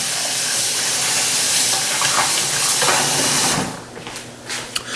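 Eggs for a frittata fry in a pan with a steady, dense sizzle throughout that thins out toward the end, leaving a few faint crackles and pops.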